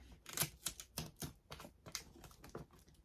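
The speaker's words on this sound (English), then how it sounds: "Give it a nice good taping." Tape is pulled and pressed onto a jumbo plush gift, with a quick run of sharp, close ripping and tapping bursts in an irregular rhythm.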